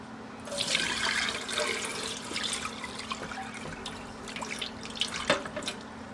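Murky water is poured carefully from a flat, wide-brimmed bowl into a jar, a close trickling and splashing stream that rises, tapers into drips, then splashes again near the end.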